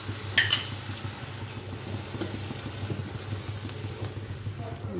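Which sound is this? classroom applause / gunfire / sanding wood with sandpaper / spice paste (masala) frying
spice paste (masala) frying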